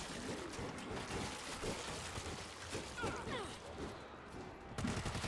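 Gunfire in the zombie shooter World War Z, rapid bursts of shots crackling continuously through a busy, noisy game mix, with a louder burst near the end.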